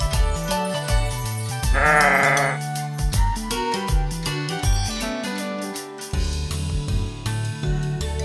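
A single sheep bleat rises out of tinkly, cartoonish toy music, a short wavering cry lasting about a second in the middle, with jingling tones before and after.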